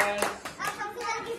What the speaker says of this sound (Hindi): चलो सब ताली बजाओ